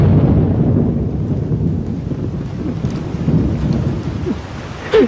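Heavy rain pours steadily in a dense, loud wash, with deep rumbling thunder rolling underneath and a sharper burst near the end; no voices, only the storm.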